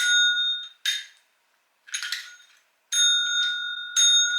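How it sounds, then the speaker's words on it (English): Small potty-training bells for a puppy jingle and ring in several bright bursts with brief silent gaps between them, close and clear. "So it's 2 bells."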